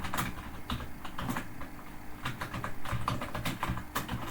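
Keys clatter on a computer keyboard as C++ code is typed, a close, busy run of quick irregular taps with brief pauses and no talking.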